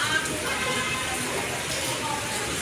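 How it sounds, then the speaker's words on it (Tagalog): Heavy rain pours in a steady, dense hiss that fills the whole stretch without pause, loud and close, with talk mixed in. "Mas lalong lumakas na yung ulan."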